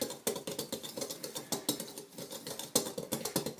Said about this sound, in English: once all those 3 ingredients are in the bowl, just mix it all in with this